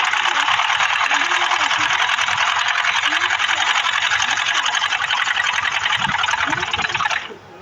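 A sewing machine stitches trousers in one steady, loud, buzzing run lasting about seven seconds before it stops abruptly.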